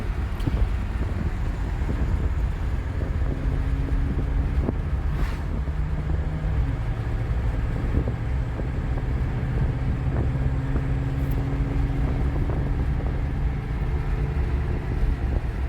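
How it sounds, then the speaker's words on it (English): Steady broadband wind roar buffets through the open windows of a moving car, a continuous loud rush with low rumble underneath and no speech. "Hope the windows being down isn't making too much noise."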